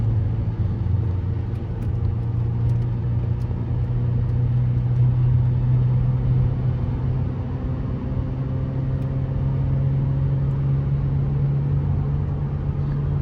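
A 2009 Audi A3 engine holds a steady low drone while the car coasts downhill, its pitch climbing slightly as revs rise. Road rumble stays continuous and fairly loud throughout, with no talking.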